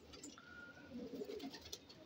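A red pigeon gives a soft, low coo, faint and close, with a brief higher chirp from another bird earlier in the quiet background.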